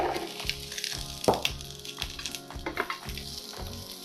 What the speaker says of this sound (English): Next, we're gonna add our snap peas directly to the pan.